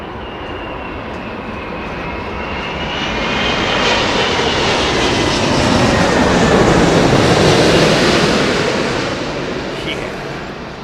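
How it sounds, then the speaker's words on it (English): An Etihad Airbus A380 airliner flies over Heathrow Airport with a loud, sustained engine roar that builds, peaks near overhead and slowly fades, with a high whine riding over the rumble and no talk. "Here she comes. Etihad 380. Listen to this."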